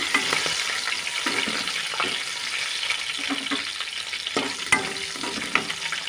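Green chilies frying in a pan, a close, continuous crackling sizzle with occasional scraping taps of stirring.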